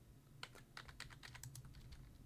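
Typing a code on a keyboard in a cel-shaded first-person horror game: a quick, faint run of about a dozen crisp key clicks in an uneven rhythm, with no talking.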